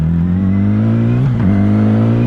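Motorcycle engine holding a loud, steady drone as the rider leans into a corner on a road, with a brief pitch dip and recovery midway through, no talking.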